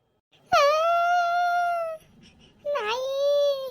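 A cartoon village dog whimpers and wails in two long, high, tonal cries with a short pause between them, loud and close, with no other sound around it.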